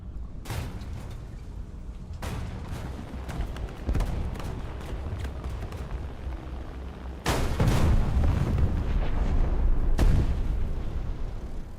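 War Thunder combat: heavy cannon fire and explosions hit as sharp, booming blasts, a few spaced seconds apart, with a louder sustained barrage near the end over continuous rumbling battle noise.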